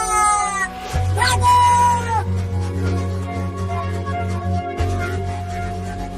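Angry cartoon cat meowing and yowling in drawn-out, wavering cries, loud and close, while someone shouts briefly over a steady background score.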